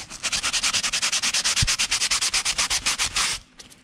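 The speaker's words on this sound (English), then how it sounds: "let me go through and sand the backs of all these" Model railroad parts being rubbed back and forth across sandpaper, a fast steady rasping rhythm of about two dozen close strokes that stops abruptly near the end.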